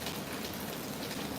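Steady rain hisses outdoors on a wet morning, a dense, even wash of drops with no voices over it.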